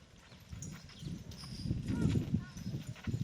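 Elephants walking with their keeper step heavily on the ground, giving low irregular thuds and shuffles that swell and fade, with faint voices in the background.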